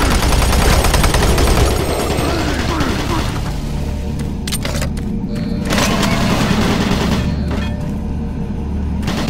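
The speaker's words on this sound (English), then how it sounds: "Warning, automated turret guns online." Automated turret guns in Doom 3 let loose continuous heavy automatic fire, a dense loud barrage with booming thuds that rolls steadily for about nine seconds.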